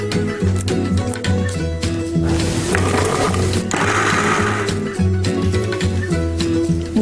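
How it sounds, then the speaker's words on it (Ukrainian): A kitchen blender roughly purées stewed green peas with mint leaves, leaving some peas whole. Its motor whirs loudly and steadily, with a pulsing, grinding texture and no talking. "додаємо листки в'яти і перетиратимемо в блендері або ж кухонному комбайні"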